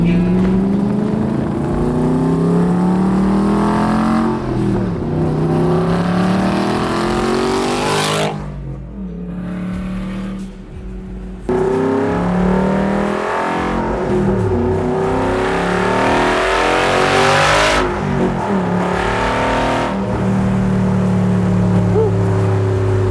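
Superformance MkIII Cobra R with a 5.2 Aluminator engine revving hard and loud up close, rising and falling through repeated pulls with a brief dip to quieter idle midway, no talk over it.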